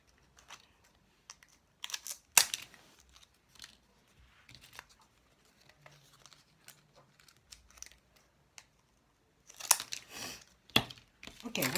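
Scissors snipping squares out of a clear plastic bottle, a few sharp crisp cuts and crinkles of plastic scattered between quiet stretches, fairly close and fairly faint.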